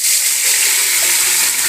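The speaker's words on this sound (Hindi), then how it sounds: "अब मैं इसमें थोड़ा सा पानी डालूँगी" Water gushes loudly and steadily into a pot while making kadhi pakora, a close, continuous pour with no voices over it.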